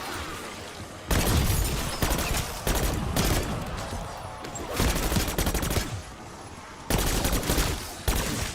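Automatic gunfire from a gun in Black Ops 6, sustained loud bursts of rapid shots broken by brief pauses, with faint voices in the quieter gaps.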